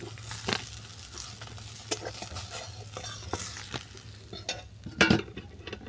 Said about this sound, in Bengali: সব মাছগুলো আমার বাদামি করে ভাজা হয়ে গেছে।